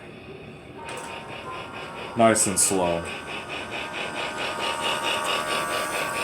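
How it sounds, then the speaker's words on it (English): A battery-powered Lionel Hogwarts Express toy train runs with a steady, rhythmic chuffing, joined by a brief whistle-like burst, while a person speaks briefly over it. "when you move it, it makes chuffing noises"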